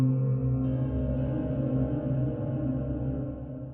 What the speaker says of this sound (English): tongue bells, which is what I used on the intro of this video